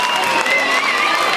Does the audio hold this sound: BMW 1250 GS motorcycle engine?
no